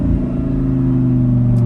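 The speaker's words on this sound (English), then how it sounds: "Just listen to these downshifts." A 2015 Audi R8 V10 Spyder's exhaust rumbles loudly with a deep, steady engine note during a downshift, heard from inside the car with no talking.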